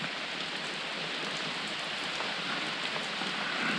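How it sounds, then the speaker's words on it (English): Steady rain patters on a trail shelter along the Long Trail, an even, dense hiss of drops that holds constant throughout with no voices. "It's been raining pretty good for a bit."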